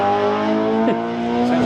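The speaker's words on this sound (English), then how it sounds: "Sounds like Civic. Honda." A Honda Civic with a VTEC engine revs steadily at a modified car show, its engine note holding a high sustained pitch and rising briefly, loud and close with no talk over it.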